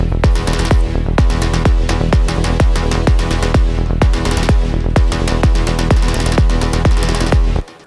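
Electronic track in a dark melodic techno style, with a thick layered synth lead over a steady four-on-the-floor kick and a pulsing bass, loud and dense throughout before cutting off at the end.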